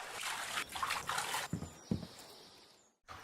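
Water sloshes and splashes in a few close bursts, video game footsteps wading through shallow water recorded in a bathtub, ending in a short quiet gap before one more splash.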